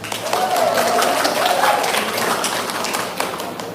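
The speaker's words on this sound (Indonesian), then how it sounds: "Tepuk tangan." An audience at a live teachers' gathering claps together in a dense, steady burst of applause lasting a few seconds, fairly close and fading slightly at the end.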